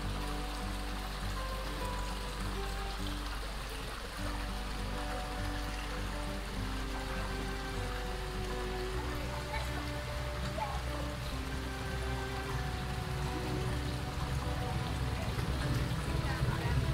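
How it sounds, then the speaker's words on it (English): Water from a roadside waterfall in the Great Smoky Mountains drips and trickles in a constant patter, steady and moderately faint, with people talking nearby. "we found this roadside waterfall right here called the Place of a Thousand Drips"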